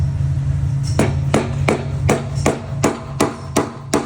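Hammer blows strike steel on a 1993 Chevrolet Silverado during fuel pump removal, nine sharp, close metallic smacks at an irregular, roughly steady pace over a low engine-like hum.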